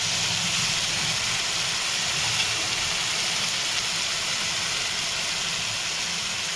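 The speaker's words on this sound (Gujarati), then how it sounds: "હવે આપણે ટામેટાની પ્યુરી સંતળાવા દઈશું જે તેલ છૂટું પડે ને ત્યાં સુધી" Tomato puree sautéing in oil for a stuffed brinjal curry, giving a steady, even hiss of sizzling with no distinct pops, constant and fairly loud throughout, with no voices.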